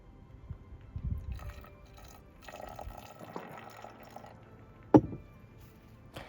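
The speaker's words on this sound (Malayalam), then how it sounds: "കുറച്ചുകൂടി ഒഴിക്കാം വെള്ളം." Water poured into a container while making blueberry wine in Sweden: scattered liquid splashes and drips with a sharper pour burst near the end, close by and fairly quiet.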